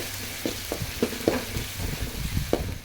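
Ginger garlic paste sautés in a hot pan for a chicken gravy, giving a steady close sizzle broken by several sharp scrapes and clicks of stirring, with no talking.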